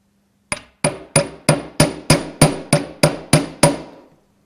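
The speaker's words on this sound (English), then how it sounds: "so I'm going to hammer the end" A hammer strikes the end of a wire ten times in an even, steady rhythm, each sharp metallic tap close and loud with a quick ring-off, while shaping a twisted wire choker.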